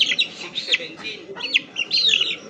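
Hens clucking and calling in a chicken coop, several birds close by in choppy, overlapping bursts, with faint voices now and then.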